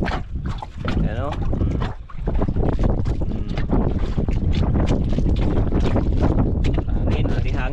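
Strong, gusty wind roars across the microphone at sea, with boat and water noise underneath and voices talking throughout.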